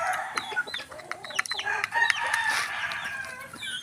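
Backyard cockerels cluck and crow at close range, a busy overlapping chorus of sharp clucks, squawks and a crow, fairly quiet overall.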